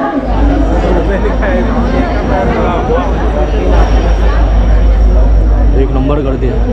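Dense crowd chatter fills a busy Dadar railway station platform at midnight, a steady loud babble of many overlapping voices with a low hum beneath, continuous throughout.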